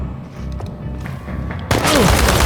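A sudden burst of loud gunfire erupts in the video game Chernobylite, following a quieter stretch of ambient game sound with faint background voices.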